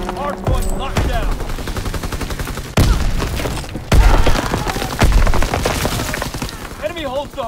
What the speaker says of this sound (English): Fighter aircraft ready. Call for a strafing run.